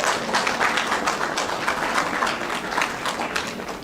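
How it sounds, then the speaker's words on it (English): Conference audience at a small business growth event giving a round of applause, dense sustained clapping from many hands filling the room, steady and fairly loud without voices on top. "Another round of applause."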